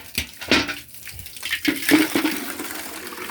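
Dirty water gushes and gurgles out of a household water filter as it is flushed clean, with uneven splashing surges close by and no voices.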